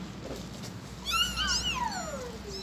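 Young kittens, just starting to walk, give a few rising and falling meows that overlap one another, close by and clear over quiet room noise, with no talking.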